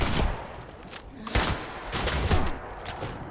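Bursts of gunfire in Fallout 76 during a fight against armed zombies, several separate volleys of sharp shots with short pauses between, loud and close.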